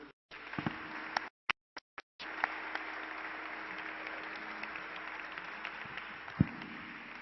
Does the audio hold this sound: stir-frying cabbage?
no